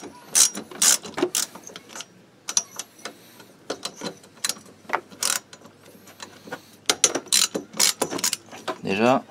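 A ratchet wrench loosens bolts on a Kymco Agility 50 two-stroke scooter during a service, giving repeated sharp clicking bursts in close, irregular runs with short pauses between them.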